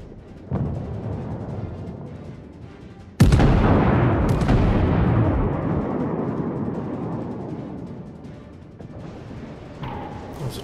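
Heavy warship naval guns firing in World of Warships, a loud booming salvo with a sharp blast and long rumbling decay, followed by another crack and rolling echo; no talk.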